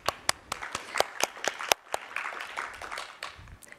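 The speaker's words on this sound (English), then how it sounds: "Round of applause." Applause from a small group, with sharp individual claps at first, then a looser, softer patter of hands that tapers off.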